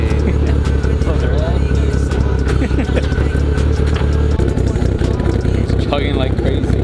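A car engine chugging roughly, a loud close continuous rumble with uneven pulsing low tones throughout while a person speaks over it.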